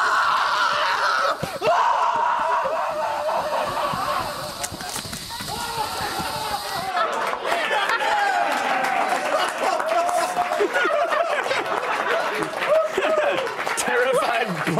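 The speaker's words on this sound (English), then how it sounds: "Blood-curdling screams." Blood-curdling screams from a found-footage scene of something hiding in the woods, loud and frantic, mixed with hurried movement, breathing and voices.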